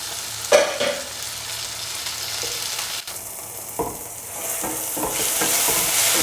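Tomatoes sizzle as they go into a hot pan with dry shrimp for a tomato roast, with a loud initial splash of frying followed by steady crackling and occasional scraping stirs.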